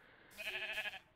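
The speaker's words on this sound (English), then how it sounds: "I believe we have sheep up here. I hear sheep." A sheep in the video game Minecraft lets out a single short, quavering bleat, faint and slightly distant, lasting well under a second against a quiet background.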